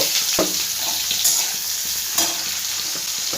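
Chopped onion sizzles steadily in hot oil in a pan while being stirred, for a Bengali fish tel chorchori, with scraping spoon strokes over the continuous frying hiss and no talking.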